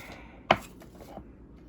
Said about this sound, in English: I chop it up a little bit more to where it's more fine